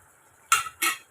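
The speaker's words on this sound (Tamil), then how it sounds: "சேர்த்துட்டு கலந்து விட்டுக்குங்க" A spoon stirs roasted spice powder into a peanut gravy in a cooking pot, making two quick scraping strokes close up with no talking.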